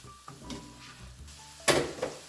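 Chicken stir fry with sesame oil being stirred in a pan, with soft sizzling under light scraping and clinking of a utensil, then a louder burst of sizzle and stirring near the end.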